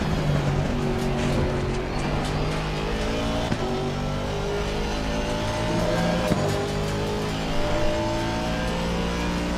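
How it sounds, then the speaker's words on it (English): A race car in a sim racing game at Bathurst roars down the straight, its engine droning steadily with rising and shifting pitch, loud and continuous throughout, with faint clicks over it. "Look at our car, we zooming down the straights."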